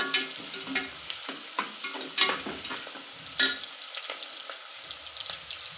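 Basmati leaf and spices sizzle in hot oil for a veg biryani, a soft crackling hiss broken by several sharp pops and stirring scrapes, close by with no voices.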